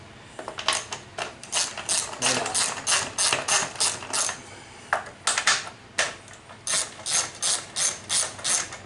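A ratchet backs 8 mm bolts off the cover of a plastic carburetor, in quick repeated bursts of clicking with short pauses between them, close and clear with no talking.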